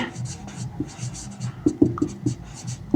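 A pen scratches across paper in short strokes while a math solution is written out, soft and close, with a quiet voice murmuring underneath.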